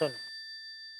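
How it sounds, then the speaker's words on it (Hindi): A telephone gives a short burst of speech, then a single clear electronic ring tone that holds steadily for about a second at moderate loudness. "फोन उठाइए"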